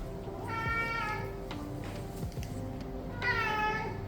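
A house cat meows twice in a kitchen where chicken is being prepared, two drawn-out cries with a pause between them over low room noise.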